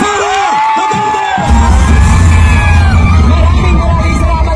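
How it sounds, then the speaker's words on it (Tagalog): Rally crowd greeting Vice President Sara Duterte with loud cheering and yelling, a continuous roaring wall of voices with whoops rising over it, building louder after a brief announcer's voice at the start. "salubungin po natin ang isang malakas na palakpakan"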